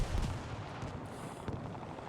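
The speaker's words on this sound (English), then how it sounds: "MINC has called in the smoke barrage on the front of the point" Smoke barrage artillery in a multiplayer shooter match lands as faint, muffled distant thuds, a couple of low booms over a steady rumbling battlefield backdrop.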